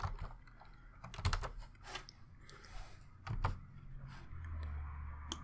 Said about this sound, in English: I'm going to type in clamp